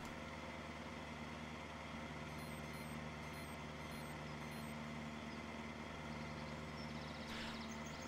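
A truck in a farming video game drives with a steady engine drone, while faint repeated reversing beeps sound throughout with no talking.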